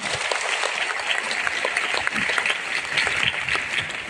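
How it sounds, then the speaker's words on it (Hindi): A crowd applauds continuously, a dense, even wash of many hands clapping throughout. "एक ताली बजाइए फाउंडर को"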